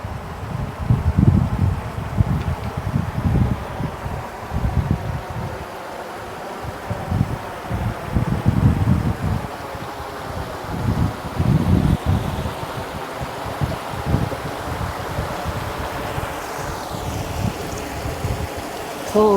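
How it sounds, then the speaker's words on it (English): River water flowing steadily past, with a continuous rushing wash that swells and dips in low surges, heard close by outdoors under some wind buffeting on the microphone. "enjoy the peace of the river, the sound of the water."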